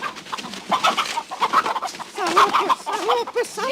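Several chickens cluck and squawk in quick, overlapping bursts, close and lively, with no talking.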